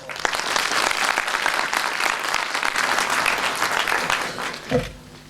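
A bar council audience at an enrolment certificate ceremony at Law Bhawan, Chandigarh, gives a long, full round of applause welcoming a judge, steady and dense before stopping abruptly near the end, with a brief bump of handling noise.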